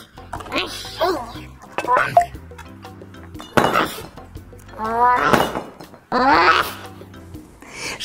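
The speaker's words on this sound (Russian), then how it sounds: "Давай поставим чашки в посудомоечную машину правильно." Dishes and cups clink as they are loaded into a dishwasher, with short scattered rattles mixed in with lively cartoon-style voices talking over most of the scene.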